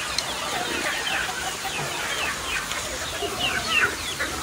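A flock of chickens clucks and chatters busily while pecking at feed, many overlapping close calls over a steady farmyard background, with no talk.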